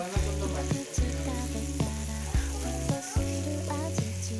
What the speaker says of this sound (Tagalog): hayaan lang natin siya mag-caramelize, guys. And ito talaga yung gusto ko, yung niluluto sa butter